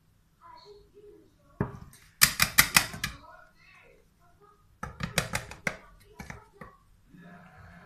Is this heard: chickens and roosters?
no